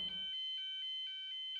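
Fire alarm triggered from a manual call point, sounding a rapid repeating electronic tone in short regular pulses after a brief rustle, clear and steady.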